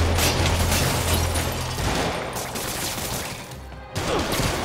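Rapid bursts of henchmen's gunfire in Marvel's Spider-Man video game, dense crackling shots layered over a continuous rumble, loud and close.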